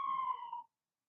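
An electronic siren-like tone from a scoring device, set off when a 5 point is missed at a tour winners' invitational event, sounds once, a short steady wail that cuts off after about half a second, fairly faint and alone.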